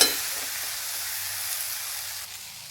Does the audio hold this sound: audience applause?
no